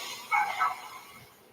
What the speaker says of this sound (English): dogs barking ominously from the next house